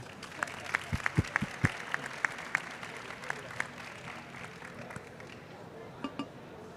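Scattered applause from a small audience after a panel presentation at a healthcare conference, with distinct individual claps standing out near the start before thinning into a sparse, quieter patter.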